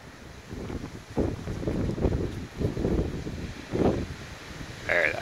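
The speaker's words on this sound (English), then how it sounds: "Alright, that's a good gust." A strong gust of wind roars in surges past a Freedom II wind turbine outdoors, rising and falling in loud buffeting waves against the microphone.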